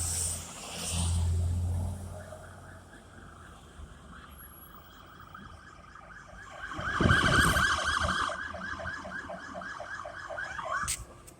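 Police paddy wagons arrive at a street intersection with wailing sirens, which rise and swell as they approach over steady traffic noise.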